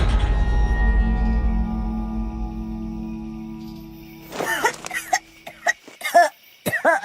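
An elderly grandmother breaks into a coughing fit, a run of harsh, close, irregular coughs and throat-clearing bursts that follows a low, droning musical backdrop.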